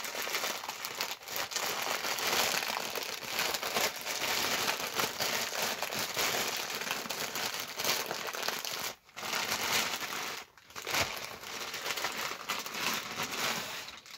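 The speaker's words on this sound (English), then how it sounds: "so I've taken off the plastic wrapping." Plastic wrapping being pulled open and stripped off a new t-shirt, a continuous close crinkling and crackling with two brief pauses, no talking.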